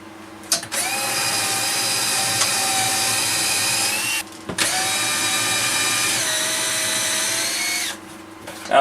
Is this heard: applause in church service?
no